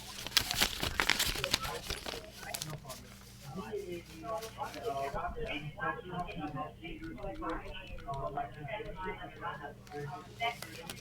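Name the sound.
paper rustling while searching through a folder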